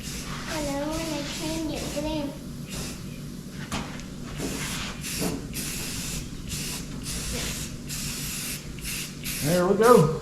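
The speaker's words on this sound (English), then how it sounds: "I want to spray paint that side and that side because I want to change it blue." Aerosol spray paint can hissing onto a car door panel being rebuilt, several close bursts of spray with short pauses, and a voice talking briefly near the end.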